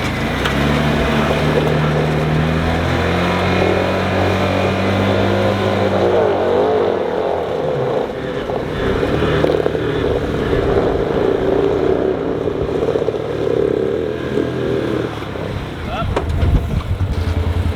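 A short-wheelbase off-road rig being winched up a steep climb on a Utah trail, its engine droning loud and close with shifting tones, buffeted by wind noise, while voices talk over it.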